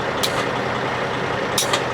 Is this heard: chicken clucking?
no